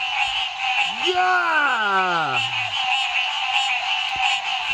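A single deep croak from a very large frog caught at night during a frog hunt, rising and then sliding downward over about a second and a half, heard close over a loud constant chorus of insects or frogs.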